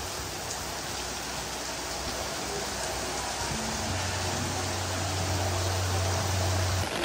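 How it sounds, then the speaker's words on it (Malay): Steady, dense rain pours down without pause at a beach resort in Port Dickson, Malaysia, a constant broadband hiss with a low hum creeping in toward the end. "Hujan lebat."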